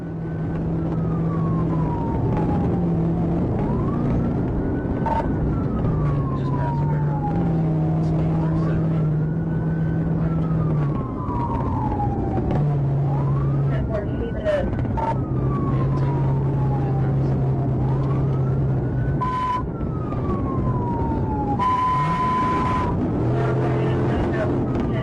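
A state trooper's police car wails with a rising and falling siren during a high-speed chase, repeating cycles over a loud engine and road roar, while a voice talks over it throughout.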